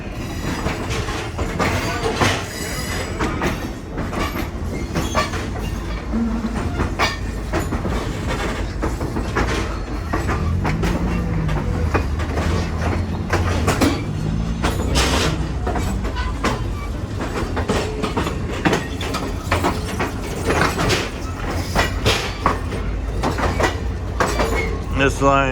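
An AAPRCO special passenger train on the Vermont Railway rolls into the North Walpole yard near Rockingham, Vermont: a loud, continuous close rumble with rhythmic clickety-clack of wheels over rail joints and occasional wheel squeal.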